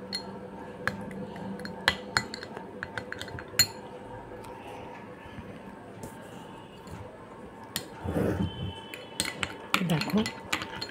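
Gram flour and a spoonful of sour yogurt being worked together in a bowl for a face pack: scattered spoon clinks and soft squishy mixing sounds, close and fairly quiet, with a few louder scrapes near the end.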